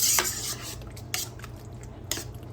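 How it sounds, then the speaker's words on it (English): A spoon stirring tomato paste into a pot, with a few distinct scraping clinks against the metal at roughly one-second intervals over a soft background hiss, close and fairly quiet. "you're just going to continue to stir it in"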